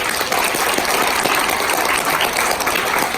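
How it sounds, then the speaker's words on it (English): Seminar audience clapping loudly at a business lecture in Perth, Australia, a dense and continuous wash of hand claps throughout. "We need to give him a round of applause."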